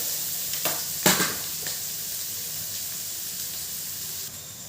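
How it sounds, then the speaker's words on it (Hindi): Onion lightly frying in a pan, a continuous close hissing sizzle with a few sharp stirring scrapes early on, running steadily with no talk. "प्याज हमारा भुन गया है"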